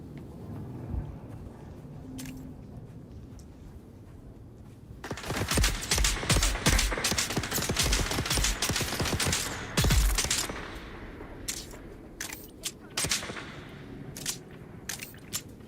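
Gunfire in the video game Dune Awakening: after a quiet stretch, a burst of rapid automatic shots erupts, then breaks into scattered separate cracks and short volleys that thin out toward the end.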